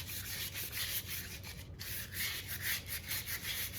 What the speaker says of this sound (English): going to lightly sand these to rough up the texture, so it will take a coat of paint a lot better